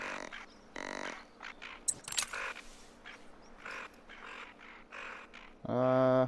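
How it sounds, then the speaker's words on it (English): Birds squawking in the hunting game theHunter: Call of the Wild, crow-like caws scattered across the clip amid ambient game sound, with a louder harmonic call near the end. "Got some birds squawking as well."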